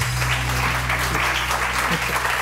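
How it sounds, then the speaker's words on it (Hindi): Loud, steady applause from an audience at a live Hindi music show, filling the whole stretch with dense clapping over a low musical hum, with voices faintly mixed in. "मेरे लिए भी तालियां बजाओ जोर से"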